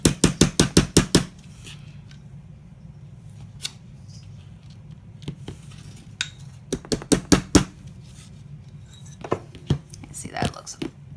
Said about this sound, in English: Just a simple hammer.